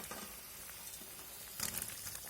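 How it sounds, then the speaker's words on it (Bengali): Soybean koftas drop into a boiling curry gravy, giving a soft steady sizzle and bubbling with a brief louder splash near the end; quiet and close. "দেখো ঝোলটা ফুটছে, এবার আমি এই কোপ্তাগুলো দিয়ে দেবো।"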